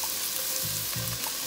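Onions, shallots and zucchini sizzle in hot oil in a pan, a steady bright frying hiss throughout with a couple of soft low clunks from the pan, close and fairly quiet, no talking.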